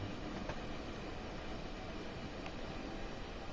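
Southeastern high speed train in Train Sim World 2 heard from its own run, a faint, steady rumbling rush of wheels and rail noise with a couple of soft clicks, continuous and even.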